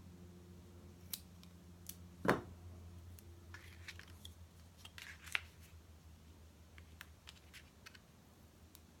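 Scissors cut a strip in half while decorative clothespins are being made at a crafting table: a quiet, crisp snip stands out, followed by faint handling clicks and rustles.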